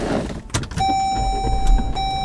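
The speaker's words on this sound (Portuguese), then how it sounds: "Preciso ligar esse carro aqui sem estar no motorista." A car started remotely from outside the driver's seat: a tonal chime or hum begins and holds steady under a low engine rumble, with a few brief clicks and thumps before it, close by.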